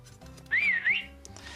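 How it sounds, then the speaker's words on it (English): A short, bright, wavering whistle from an electronic toy puppy rises and dips twice over quiet background noise, like a squeaky electronic tune. "if we switch him on at the back, he's going to make a whistling sound"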